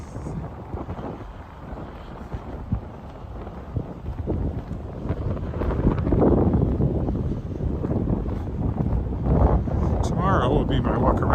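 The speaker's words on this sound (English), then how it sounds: "an unimpeded blast of wind" Strong wind gusts across the microphone beside a lake during a March walk, a loud, continuous rumbling buffet that swells toward the end, with a voice talking at times under it.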